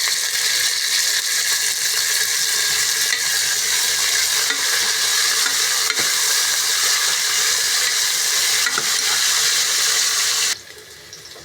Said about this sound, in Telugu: ఇదిగోండి, ఇలాగ వేగిపోయేవి.